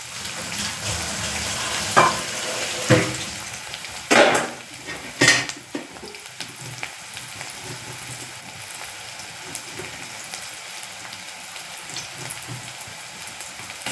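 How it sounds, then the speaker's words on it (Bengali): Onion and green chili fry in a wok over cumin seeds, a low sizzle broken by a few sharp clanks of a utensil against the pan early on. "আমি কড়াইয়ের মধ্যে জিরে ফোড়ন দিয়েছি, পেঁয়াজ কাঁচা লঙ্কাটা ভেজে নিচ্ছি"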